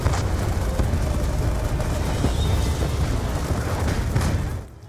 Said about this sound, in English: I tried throwing a flashbang at them and then